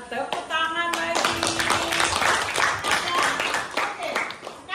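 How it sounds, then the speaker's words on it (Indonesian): Students in a classroom clap together in a brisk burst of hand claps, close and lively, with voices talking over the clapping. "Nah, tepuk tangan lagi."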